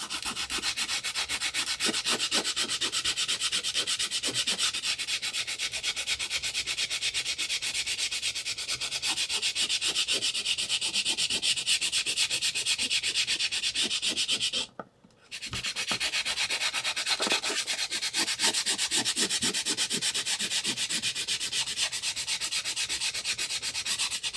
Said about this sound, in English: get some sandpaper, probably a 120 grit, and just round off these edges